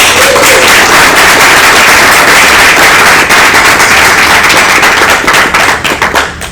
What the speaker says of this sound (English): Let us put our hands together and give Jesse another big round of applause.